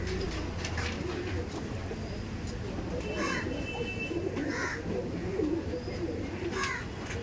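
Royal Teddy pigeons coo softly and repeatedly amid a steady background hum, with a few brighter calls standing out near the middle and end.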